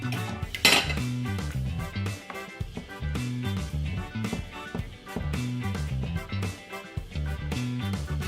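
A spoon stirs sugar into Jamaican cornmeal porridge in a pot, loud rhythmic clinks and scrapes against the sides repeating in quick cycles, close and dry with no talking.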